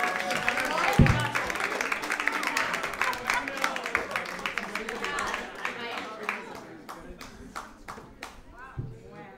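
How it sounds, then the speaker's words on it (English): Comedy club audience breaks into a round of applause, dense clapping that swells loudly then thins toward the end, with a few louder individual claps and some voices mixed in. "Give Jessica a big round of applause."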